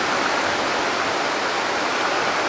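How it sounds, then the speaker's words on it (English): Heavy thunderstorm rain pours down in Smithtown, a dense unbroken hiss of downpour, loud and constant throughout with no voices over it. "Look how hard it's raining out here."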